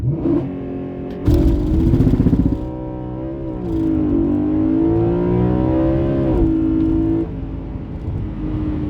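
A 2012 BMW M3 with the 4.0-litre V8 launches hard from a standstill using launch control, the engine note climbing through gears with brief shift breaks, loud and close throughout.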